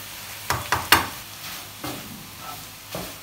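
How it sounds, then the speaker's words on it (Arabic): Chicken and added ingredients are stirred in a frying pan, with a few sharp utensil scrapes early on and softer stirring strokes over a low, steady sizzle. "هادي عمليه مهمه، غنزيدوهم باش يتخلطوا مع الدجاج"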